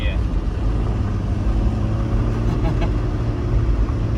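An old vehicle's engine labours in first gear at about 2,300 meters altitude in the desert, a steady low rumble with road and wind noise throughout, constant and close, with faint overheard voices in the background.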